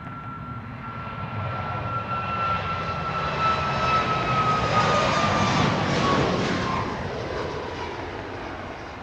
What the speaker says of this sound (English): We're waiting for a plane to Las Vegas to lift off into the night sky, and here it comes